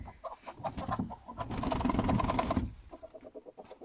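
Chickens cluck in bursts on a snowy village farm, a close, busy flurry of clucks and squawks that swells in the middle, then drops back to scattered calls.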